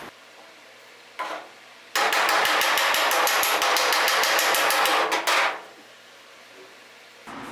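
Rapid, ringing metallic hammer blows knocking out a low spot in a Triumph Spitfire's sheet-metal bonnet, a quick steady burst of many strikes close by, with a few single taps before and after.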